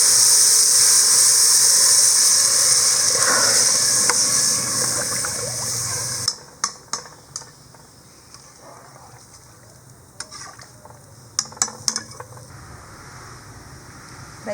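A steady rushing hiss of water pouring into a rice pot for several seconds, then stopping, followed by a few sharp clinks and small knocks of the pot.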